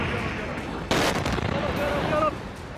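Military airstrikes and shelling in Syria produce a sudden loud blast that settles into a rumbling roar, set against outdoor noise while a voice speaks briefly.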